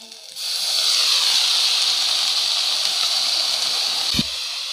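Water poured into a hot stir-fry pan of young chayote shoots sizzles into a loud, steady hiss that holds for several seconds, with a brief clatter near the end.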